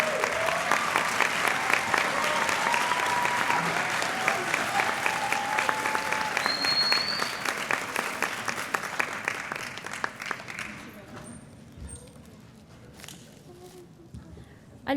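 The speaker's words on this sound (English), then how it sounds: "A special round of applause for Yvette." Graduation ceremony audience applauding, a long loud wash of many hands clapping that holds for about ten seconds, then thins into scattered claps and fades toward quiet near the end.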